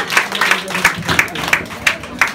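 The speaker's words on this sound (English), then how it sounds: "Let's give her a bigger round of applause." A live audience claps and cheers at a gathering in Liberia, a steady wash of hand claps with rhythmic bursts about every third of a second, fairly close and loud throughout the short stretch.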